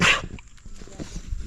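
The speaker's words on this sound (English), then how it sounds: "there's a mange dog" A mangy stray dog in rural Azerbaijan gives one sharp bark up close, followed by quieter outdoor background noise and faint voices.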